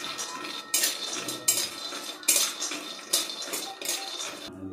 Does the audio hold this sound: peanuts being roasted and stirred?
yes